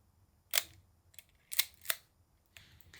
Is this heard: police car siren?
no